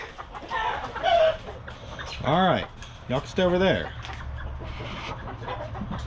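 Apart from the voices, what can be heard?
chickens clucking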